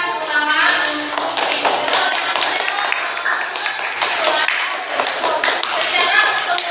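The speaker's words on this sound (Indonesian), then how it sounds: "Oke, kita berikan tepuk tangan untuk" A classroom group claps along with some tapping and thumps, fairly close and loud. Voices talk over the clapping throughout.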